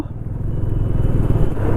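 A motorcycle engine drones steadily with road rumble and surrounding traffic noise, close and fairly loud, no talking.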